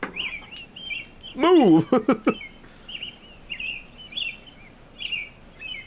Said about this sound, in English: So we got birds chirping.